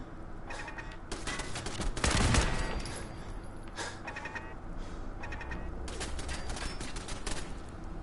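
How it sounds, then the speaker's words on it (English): Dense bursts of gunfire from a firefight in Fallout 4 crackle in a rapid volley, with one heavy boom near the middle and scattered shots continuing after it. There is no talking over them. "I guess I'm gonna have to shoot them to take them out."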